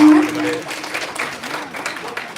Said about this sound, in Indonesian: Kita berikan tepuk tangan yang meriah untuk Bapak Yusri, sahabat semua.